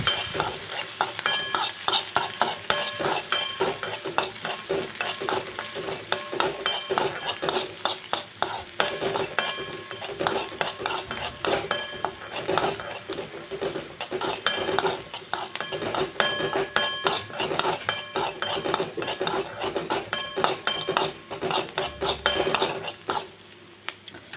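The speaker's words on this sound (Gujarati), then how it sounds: "હવે ડુંગળીને આપણે ગોલ્ડન બ્રાઉન સુધી કૂક કરી લેશું" Chopped onion frying toward golden brown in hot oil in a kadai, with steady sizzling under continuous stirring, the spoon repeatedly scraping and clinking against the pan.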